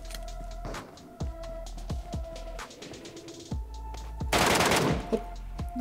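Gunfire rings out in the video game PUBG Mobile Metro Royale, a string of sharp separate shots at an irregular pace followed by a dense, louder burst near the end, with no talk over it.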